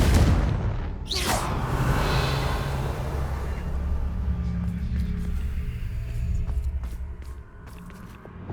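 A Confringo blasting curse explodes in the video game Hogwarts Legacy, a sharp boom and whoosh early on that trails into a rumbling decay and scattered small crackles.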